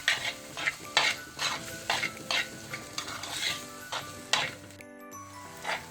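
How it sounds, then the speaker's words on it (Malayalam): Onions with salt being stirred and sautéed in a pan for an easy chicken dish, a utensil scraping in repeated strokes over a steady close sizzle, with occasional clinks against the pan. "ഇനി നമുക്കിതൊന്ന് നന്നായിട്ട് മിക്സ് ചെയ്ത് ഇതൊന്ന് വഴറ്റി കൊടുക്കാം."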